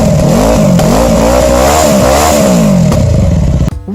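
YCR 400 motorcycle with a 360-degree crank revs hard, its engine note rising and falling in quick throttle blips, loud and close, then cuts off abruptly at the end.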